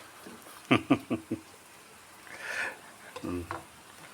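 Vegetables stirred into boiling chicken soup in a pot, with a few quick scraping strokes early on, then softer bubbling and a brief clatter near the end, faint voice traces between.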